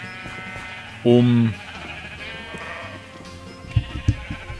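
A sheep bleats once in the Minecraft video game, a short, clear wavering call that rises over a steady background of game sounds while someone talks.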